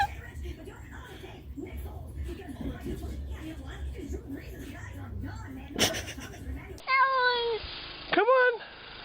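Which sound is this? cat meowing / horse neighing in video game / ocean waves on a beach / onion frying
cat meowing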